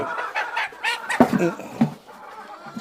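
Free-range country chickens on a farm cluck close by in short, uneven bursts, with a few sharp knocks mixed in, over a soft ambient background.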